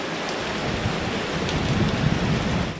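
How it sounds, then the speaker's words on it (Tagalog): Heavy typhoon rain pours down steadily with a constant broadband hiss, strong gusts of wind swelling underneath, close and loud with no voices. "magdamag binayo ng malakas na hangin at tuloy-tuloy na pag-ulan"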